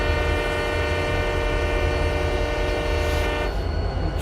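A Canadian Pacific freight train in the RO-Scale Sandbox game sounds a loud, steady multi-tone horn that holds unbroken over a rumbling engine and rail noise, then eases slightly near the end.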